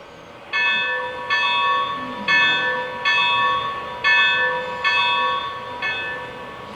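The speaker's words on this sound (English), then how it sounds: "This is the bell." A Lionel LEGACY 2-6-6-2 Mallet model locomotive bell rings repeatedly at an even pace, about once per second, bright metallic clangs over a low background hum.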